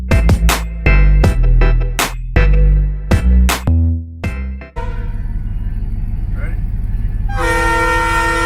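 A train passes close by a street, first several loud short horn blasts in a choppy rhythm, then a steady rumbling roll of rail cars with another sustained horn near the end.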